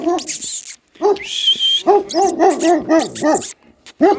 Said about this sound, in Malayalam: ഒരു പട്ടി വരുന്നുണ്ട്